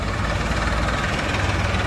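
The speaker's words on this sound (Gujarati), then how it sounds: "તો ટ્રેક્ટર હાલતું થઈ ગયું છે સક્શન ઓલે." Tractor engine idling close by with a steady, throbbing low rumble and no pauses.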